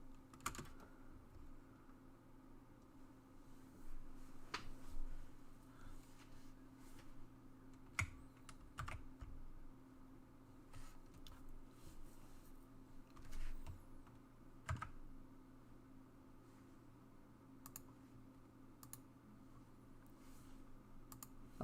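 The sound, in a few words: computer keyboard typing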